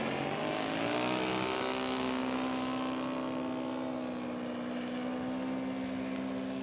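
A scale model airplane engine in flight at a scale aircraft show, a steady droning propeller whine heard from a distance, its pitch easing down slightly as the throttle is pulled back, with no talking.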